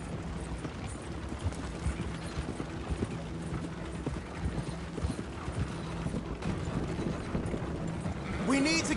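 A horse gallops in Red Dead Redemption 2, with fast, steady hoofbeats drumming close under faint game ambience and brief talk.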